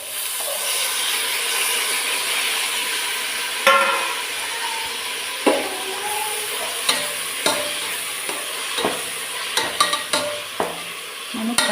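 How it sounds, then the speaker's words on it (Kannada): Tomato and mint fry in a hot pan with a steady, dense sizzle, broken by a series of sharp scraping stirs and clacks of a spoon against the pan. "ಟೊಮೊಟೊ ಸ್ವಲ್ಪ ಫ್ರೈ ಆಗಲಿ."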